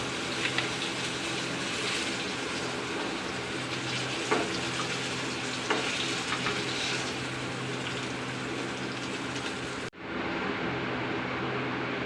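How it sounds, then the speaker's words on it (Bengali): Pieces of hilsa fish frying in hot oil in a pan, a steady close hiss with faint crackles that runs unbroken for about ten seconds, then abruptly drops away. "আমি মাছগুলোকে উল্টে ফিরে ভেজে নিয়েছি খুব ভালোভাবে"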